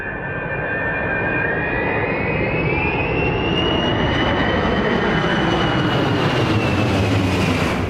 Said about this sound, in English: a massive jet roaring over your house, rattling every window like an earthquake in the sky